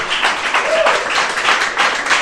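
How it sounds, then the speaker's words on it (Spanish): A church congregation applauds, a dense, steady wash of many hands clapping that fills the room for a couple of seconds, fairly loud and continuous. "Denle un aplauso si usted lo cree."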